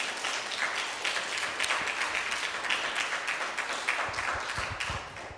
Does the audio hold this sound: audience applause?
yes